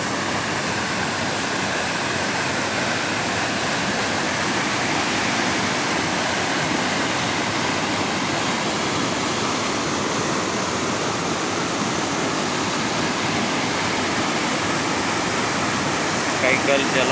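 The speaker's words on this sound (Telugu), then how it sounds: "కొండల కోణాల్లో పాయలు పాయలు ఒక్కటిగా కలిసి మొత్తంగా ప్రవహిస్తున్న నీళ్ళు కైగల్ కైగల్ జలపాతం" Kaigal waterfall pouring through forested hills in Chittoor district, a loud, steady rushing roar of falling water that holds unbroken and close for the whole stretch, with no voices.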